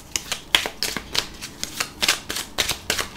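Tarot cards being shuffled by hand, a quick series of crisp riffling flicks and slaps in an irregular rhythm, close and fairly quiet, with no voice over them.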